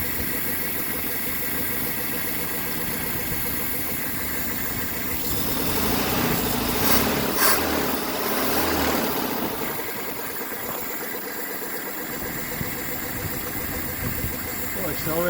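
A 1983 Toyota SR5 4X4 engine idles after sitting 28 years, a steady mechanical rumble with a brief rev and rushing surge midway before settling back to an even idle.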